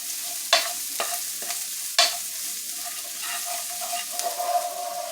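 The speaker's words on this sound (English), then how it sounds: "Stirring this around. We don't want it to get too hot," Ground beef with chili paste frying in a pan, a low steady sizzle punctuated by a few sharp spatula scrapes and stirring strokes, close and fairly quiet, no talking.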